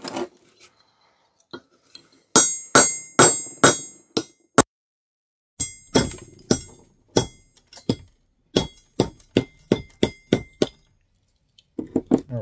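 Hammer blows striking old HRC fuses in a shed to break them apart for copper, a series of sharp metallic clinks and clangs in irregular bursts, loud and close, with short pauses between groups of strikes.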